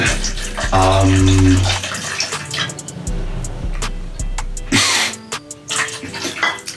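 Liquid pours steadily at close range into a vessel in a quiet room, a continuous splashing rush with a faint low hum beneath it, easing off partway through and then resuming.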